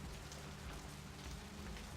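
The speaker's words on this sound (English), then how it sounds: "While we stand here in the rain and enjoy some police officers crossing our vision." Rain in the video game Vampire: The Masquerade - Bloodlines, a dense, even hiss of steady rainfall on surfaces, constant and enveloping throughout with no voices.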